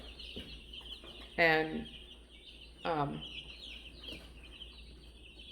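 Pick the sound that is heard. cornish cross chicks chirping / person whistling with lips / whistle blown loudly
cornish cross chicks chirping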